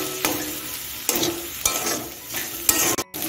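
A spoon stirs a shrimp and kakrol (spiny gourd) filling in a hot pan, scraping in four or five steady strokes over a continuous close sizzle of frying.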